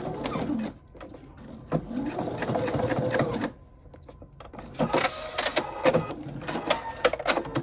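A sewing machine stitches a fabric Christmas ornament in short bursts of rapid mechanical whirring, separated by brief pauses, close and clear with no voices.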